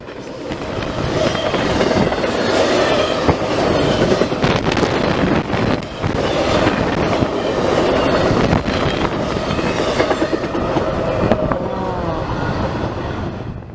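CSX freight train Q019 rolls past on the Mohawk Subdivision, a loud, continuous rumble of railcars with rhythmic wheel clatter and occasional squeals, close by and steady throughout.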